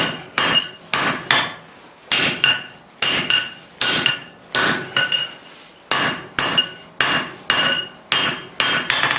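Hammer blows on a 3/4-inch square steel bar being forged for bolt jaw tongs, ringing strikes in quick clusters of two to four separated by short pauses, loud and close with no talk.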